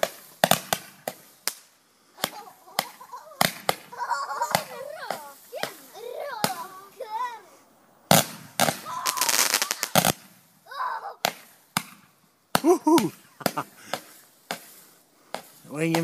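Repeated sharp firework bangs and crackles from a firework cake go off throughout, fairly close, with a brief dense burst in the middle and a few voices faintly between blasts, at Easter.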